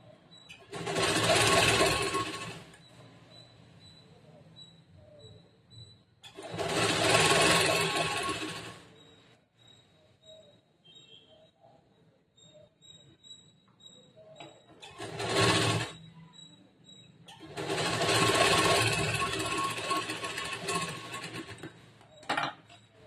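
Sewing machine stitching a boat neck blouse, running in four separate bursts of fast whirring with quiet pauses between them.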